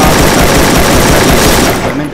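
Rapid gunfire from the mobile battle royale game Free Fire, a dense, loud burst of shots filling the whole moment before tapering off at the end.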